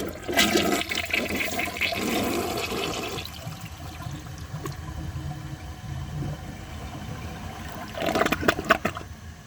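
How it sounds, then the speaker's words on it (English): A 2004 Gerber Aqua Saver toilet flushes with a loud gurgling rush of water that fades into a quieter refill hiss, then a burst of sloshing near the end, with no talking. "So I'm going to set this back up and give it another flush"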